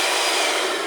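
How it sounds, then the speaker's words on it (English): A small handheld miniature blower runs steadily close by, a strong, even whoosh of rushing air much like a hair dryer, with no talking over it. "It's a little miniature blower."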